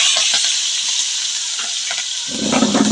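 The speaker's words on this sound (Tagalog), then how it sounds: "Ang sabi ko sa kanya, magprito siya ng pangulan namin ngayon." Food frying in a pan in a home kitchen, with a steady, close, bright sizzle that swells louder toward the end as something is stirred or added.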